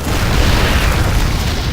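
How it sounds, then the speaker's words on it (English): Siege tanks firing in a StarCraft match, a dense continuous roar of loud booming blasts that blur together with no gaps. "the siege tanks firing away"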